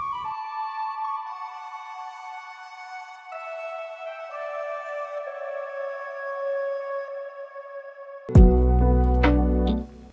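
Sampled flute, pitch and tempo shifted for a chillhop track, plays soft sustained notes in a slow descending phrase, then a deep boomy bass hit and drum beat suddenly come in near the end.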